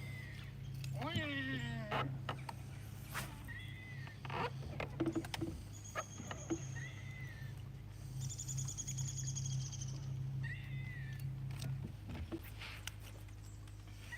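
A bird calls loudly in sharp, rising and falling bursts over a steady low hum, with scattered clicks and knocks around it, out on the water.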